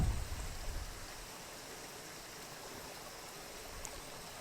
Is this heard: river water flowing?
yes